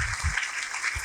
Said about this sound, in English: Give him a big round of applause for Mr. Salim sir.